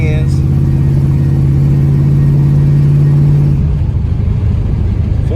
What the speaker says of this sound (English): Already in high gear. Gotta be careful going around the curve.